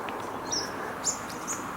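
Birds in the Australian bush near a flowering grass tree give a few short, high chirps at a moderate distance, spaced out over a soft hiss of background noise.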